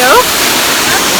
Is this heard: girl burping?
no